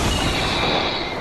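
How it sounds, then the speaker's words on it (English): A rocket missile explodes in the Fortnite video game, a loud, dense roar of blast noise that fills the short moment without a break, with no voices over it. "Oh, rocket missile."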